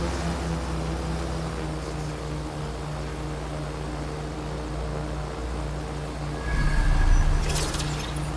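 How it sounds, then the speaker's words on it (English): Malfunctioning drone in the Watch Dogs Legion video game, a steady loud propeller whir and hum throughout that swells louder and rougher near the end, with no talk. "Jesus, what's wrong with that drone? Shit, that machine's acting crazy!"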